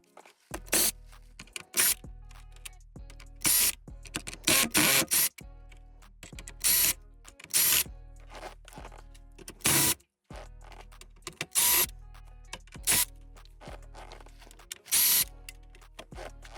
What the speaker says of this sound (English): So you're going to see me go ahead and take out all the screws here.